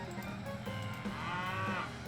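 Cattle mooing in the Farming Simulator 2011 video game, several drawn-out bovine calls overlapping steadily above a low engine-like rumble of farm machinery.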